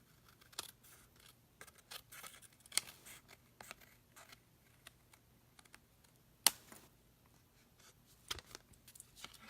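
Faint, quick snipping clicks of paper craft snips cutting out paper leaves, scattered irregularly across a quiet tabletop with soft handling rustles between cuts.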